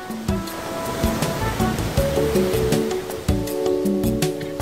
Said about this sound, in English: The gentle surf gives the impression of a sheltered bay